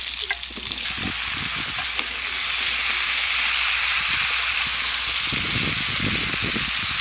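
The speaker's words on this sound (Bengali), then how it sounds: "মাছ ভাজা তেলের মধ্যে আলু আর পেঁপে ভাজে নেব।" Potato and papaya pieces frying in oil left over from frying fish: a loud, steady, close sizzle runs throughout, with a few stirring knocks and no talking.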